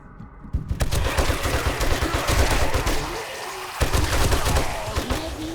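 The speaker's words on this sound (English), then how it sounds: "let me get out the machine gun" Machine gun fire in the console game 7 Days To Die: loud rapid bursts of shots, nearly continuous, with a short gap before resuming near the end.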